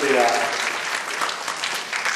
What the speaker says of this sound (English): Give them a lusty round of applause, please.